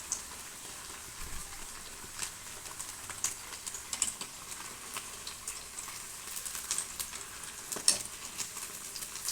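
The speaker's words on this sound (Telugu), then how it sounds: "లోపల కొంచెం మీడియంలో పెట్టుకొని కాల్చుకోవాలి బ్రౌన్ కలర్ వచ్చేదాకా." Sago vadas fry in hot oil in a pan over medium heat, giving a faint, steady crackling sizzle with small scattered pops throughout.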